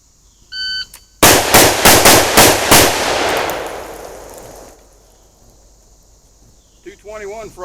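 On a shooting range, a shot timer beeps, then six rapid, loud gunshots crack in quick succession at multiple targets using an American Tactical 60-round magazine, ringing out into a fading echo before a voice speaks.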